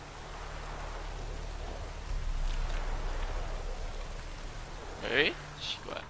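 Rain in The Witcher 3 falling as a soft continuous hiss beneath a low game hum, with a brief sharp effect near the end and a faint voice in the background.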